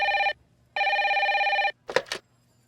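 A telephone rings twice with a buzzy electronic trill, a short gap between rings, followed by a brief voice.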